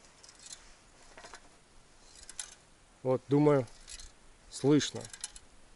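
A loose part inside a Tonar Barnaul LR 130 hand ice auger rattles with light metallic clinks and jangles as the tool is shaken, with someone speaking briefly between the rattles.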